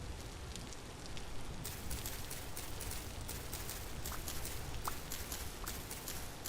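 Rain falling in the video game Vintage Story, a steady dense patter of drops with faint scattered ticks, moderately quiet and continuous with no talk.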